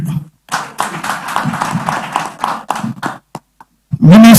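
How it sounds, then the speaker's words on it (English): Brief, uneven clapping from an audience at an inter-ministerial quiz competition, a few seconds of claps broken by pauses, ending in a loud burst of sound. "Give them a round of applause"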